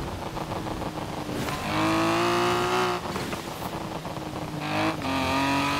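A whining engine from a Morgan Three Wheeler in Forza Horizon 4 revs up and down in surges, loud and close, with pitch climbing during each acceleration.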